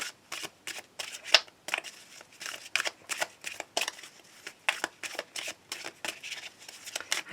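Tarot cards are shuffled close up for a reading, a quick series of crisp, papery riffles and slaps repeating in an uneven rhythm with no talking.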